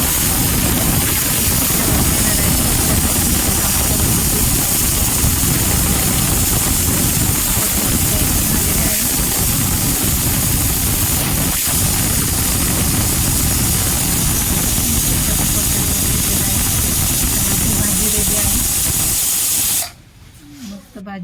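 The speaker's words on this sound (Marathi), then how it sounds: "आता मी कुकरला झाकण लावून तीन शिट्ट्या देऊन घेणार आहे" A pressure cooker cooking a chickpea curry lets out a long, loud, steady steam hiss for about twenty seconds, then cuts off abruptly.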